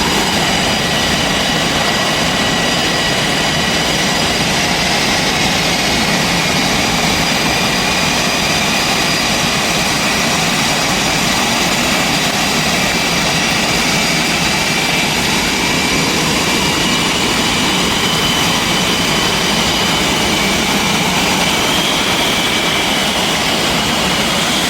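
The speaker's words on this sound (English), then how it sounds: "it was my son's first time around jets like that" The Blue Angels' military jets roar steadily at Fleet Week, a loud, continuous, broadband engine blast that fills the air without a break and no voices.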